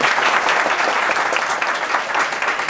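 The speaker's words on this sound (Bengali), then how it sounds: "স্যারের জন্য একটা জোরে করতালি চাই।" A packed audience at a polytechnic event gives loud, continuous applause for the speaker's teacher, a dense, even roar of clapping throughout.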